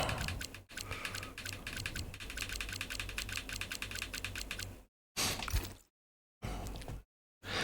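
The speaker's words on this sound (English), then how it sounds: "I think Rob's typing the game in, Choco." Someone types steadily on a computer keyboard in rapid, close clicking for several seconds, then the keystrokes break into short bursts separated by silence.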